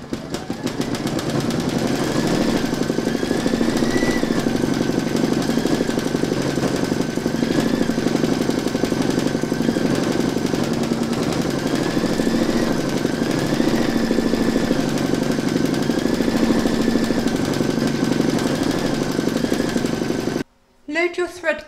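An embroidery machine stitches an in-the-hoop poinsettia bunting, its needle hammering in a fast, dense, steady buzz with a faint wavering whine, running loud and unbroken until a brief pause near the end.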